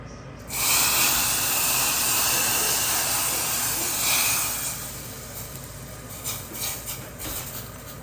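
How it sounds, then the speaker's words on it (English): Hot tadka poured into Punjabi kadhi curry gives off a loud, steady hiss of sizzling oil. It swells at the pour, fades gradually, and ends in a few soft clinks of utensils. "now add this tadka into the curry"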